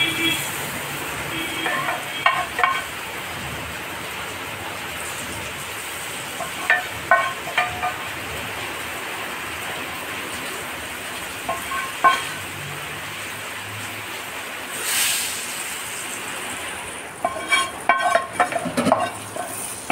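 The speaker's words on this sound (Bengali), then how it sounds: "এবার ডালটায় ফোড়ন দিচ্ছি" Tempering spices hit raw mango dal in a pan, a steady close sizzle and fry hiss with occasional stirring scrapes and clinks of utensils.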